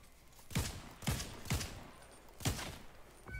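Four booming gunshots in Fortnite ring out at uneven intervals, each with a deep thump and a short echoing tail, fairly close and heard without talk.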